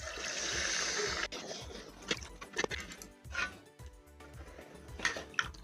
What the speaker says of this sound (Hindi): तो चलिए पानी डालते हैं। तो हल्का गर्म पानी है ये।